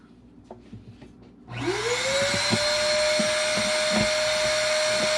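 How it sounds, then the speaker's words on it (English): A vacuum switches on partway through and sucks debris from inside the body of a Collings C100 Deluxe acoustic guitar. A few soft handling taps come first, then a loud steady whine and rising tone, with occasional rattles as bits are drawn in. "I'm going to go ahead and just try and put a little bit of vacuum action in here against this"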